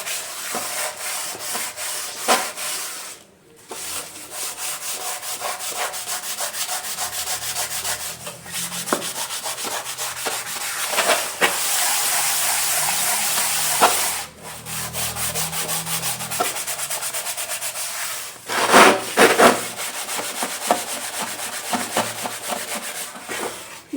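An aluminium lid scrubbed by hand with white rangoli powder and soap, a close, continuous rasping rub in repeated back-and-forth strokes with brief pauses between bouts.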